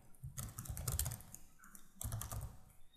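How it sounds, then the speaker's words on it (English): Quick bursts of keystrokes on a computer keyboard while a web address is entered, two clusters of rapid clicky taps separated by a short pause, close and clear with no voices. "You can type in routerlogin.com."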